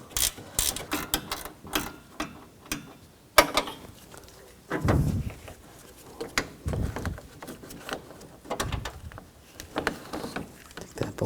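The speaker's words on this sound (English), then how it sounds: "Using a 10mm wrench right here, take this bolt out." A 10mm wrench removing a bolt during AC condenser replacement on a 2004-2009 Toyota Prius, scattered metallic ratcheting clicks, clanks and handling noises, close and irregular, no talking.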